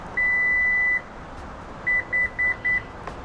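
A Lexus power back door beeps as it saves a new height: one long tone, a short pause, then four short, evenly spaced beeps, clear and close with no talk.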